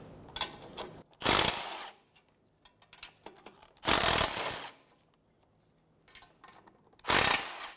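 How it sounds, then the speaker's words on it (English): A 12mm socket on a ratchet works loose the three bottom exhaust manifold nuts on a 2012-2020 Chevrolet, giving three loud bursts of close ratcheting separated by quieter clicks and handling noise. "Using a 12mm socket, remove the 3 bottom nuts for the triangle."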